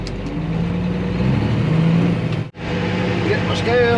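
A loaded truck, TTW2, rolls onto a weigh scale, its engine rumbling steadily and close with a brief drop in noise partway through, then revving again alongside some faint high squeaks.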